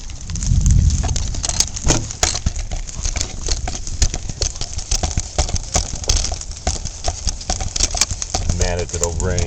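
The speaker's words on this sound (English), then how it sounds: "So I got you a door, and it works, and it's raining." Rain falls steadily outside an open door, a continuous hiss scattered with sharp patter and drips. A Boxer dog moves about nearby, with occasional thumps and clicks over the rain.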